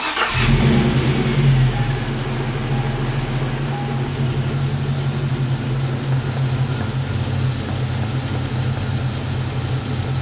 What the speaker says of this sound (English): Start the engine, run it for a little bit